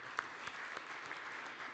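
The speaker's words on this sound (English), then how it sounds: "Yes, they all deserve a clap." Brief, quiet applause from a conference audience in Namibia, a soft steady wash of clapping with a few distinct claps standing out, heard from a distance.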